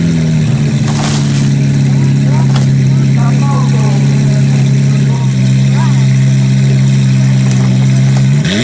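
A red Ferrari's engine idles steadily at close range in a low, constant hum, with a small shift in pitch near the end. Faint background sounds and some possible voices sit over it.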